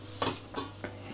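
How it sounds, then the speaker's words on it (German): Metal sieve lowered into a cooking pot while making Fleischwurst with tomato sauce, giving three light clinks and clatters spaced evenly apart, close and fairly quiet. "einmal das Sieb versenken und den Topf können wir schon mal anmachen"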